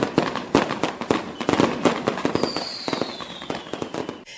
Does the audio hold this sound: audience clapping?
no